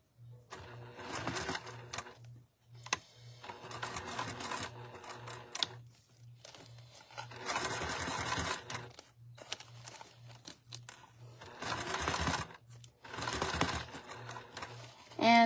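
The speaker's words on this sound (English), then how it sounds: "So I'm going to sew this at a 1/4 inch seam allowance." Sewing machine stitching a clear vinyl seam at a quarter-inch allowance in intermittent bursts, with a steady low background hum and quiet pauses between the runs.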